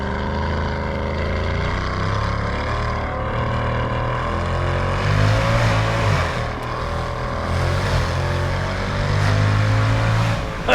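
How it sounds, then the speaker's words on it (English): A Mercedes-Benz CL63 AMG engine rumbles loud and close while driven hard, a continuous deep roar that surges and eases in waves with no talking over it. "You hear a wonderful engine rumbling behind me because we are driving the Mercedes-Benz"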